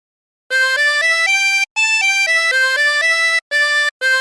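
A harmonica plays a phrase of Turkey in the Straw, giving a short melody of bright, reedy notes stepping up and down, with a couple of brief gaps between notes and no talk.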